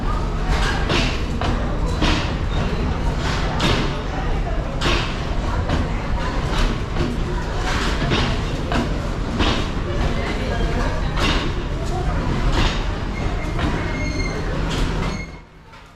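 Sri Lankan Night Mail sleeper train, non-air-conditioned, running from Badulla to Colombo: a steady loud rumble of wheels and carriages with rhythmic clacks and faint squeals, continuous throughout, fading at the very end, with voices mixed in.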